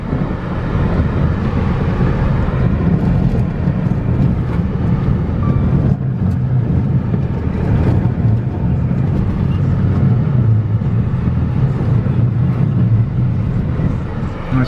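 A 2015 Dodge Dart with a 2.4-liter engine drives forward during a transmission test, giving a steady, dense drone of engine and road rumble that holds at an even level throughout.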